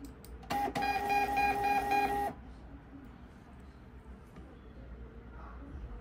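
A Zebra ZD220 label printer runs off a test page, a loud steady whirring and tonal motor drone lasting under two seconds before cutting off abruptly, leaving quiet room noise.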